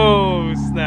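A 2025 BMW M4 Competition xDrive convertible (G83) engine revving nearby: a loud, rich droning tone that holds high and then eases slightly downward over under a second.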